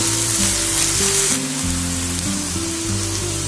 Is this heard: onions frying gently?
yes